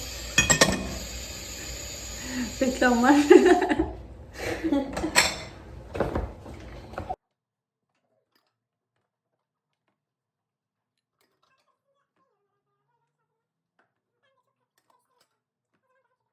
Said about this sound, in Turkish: Şimdi bulaşıkları yıkıyorum.